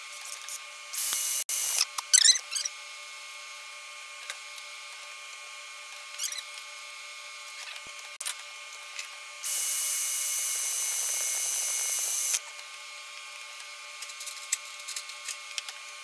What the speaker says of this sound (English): gently drill through this just until you pop a hole in there.